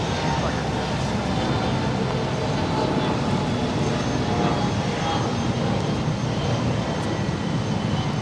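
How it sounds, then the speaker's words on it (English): An ITA Airways airliner on flight 620 from Rome arriving at Los Angeles International Airport, a loud, steady broadband engine roar sustained throughout, with speech partly audible under it. "It's ITA, flight 620 coming in from Rome"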